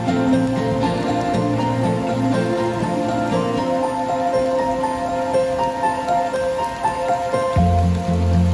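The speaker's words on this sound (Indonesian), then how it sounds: "Setelah makan siang, hujan mulai turun." Steady rain patters on surfaces nearby on a steep mountain trail on Mount Peut Sagoe in Pidie, Aceh, a continuous hiss of drops with a low hum underneath.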